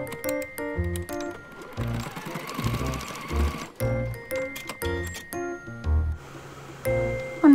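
A home sewing machine stitches a D-ring tab for a handmade shoulder bag, running in loud close bursts of rapid needle clatter separated by brief pauses, with light tinkling clicks and no talking.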